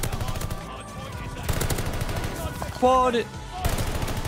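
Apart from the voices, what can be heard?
assault rifle gunfire (StG) in video game Call of Duty Vanguard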